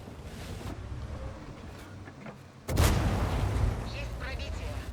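A tank's main gun fires in an online tank battle video game, a sudden loud boom cutting through steady wind-like rumble, with a sustained roar after the shot.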